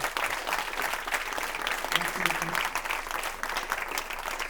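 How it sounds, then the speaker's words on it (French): Audience at a comedy night applauding a show's organizer, a dense, sustained wash of clapping from a full room that holds steady throughout, with a voice faintly mixed in underneath. "On peut l'applaudir, Jojo, qui a organisé tout ça"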